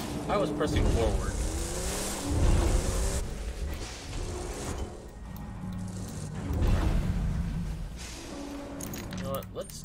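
Car engine driving in Borderlands 2, a steady loud motor drone with surges and tire noise, under a voice talking over the gameplay.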